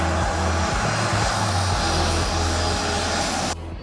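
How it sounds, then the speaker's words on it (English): An airplane lands at a regional airport, its engine roar loud and continuous, a broad sustained rumble close by that cuts off abruptly near the end. "Now that the plane is landing, how do you make sure it doesn't run into the airport?"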